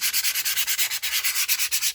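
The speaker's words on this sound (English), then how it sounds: "I took some sandpaper and I went over" Sandpaper rubs back and forth over a glued, dried journal book cover in a steady rapid rhythm of roughly eight strokes per second, close, loud and hissy with no voices.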